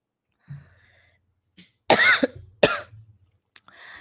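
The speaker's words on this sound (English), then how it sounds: "Pardon my cough." Two sharp coughs close together, preceded by a faint throat noise and followed by a softer cough, near and otherwise quiet.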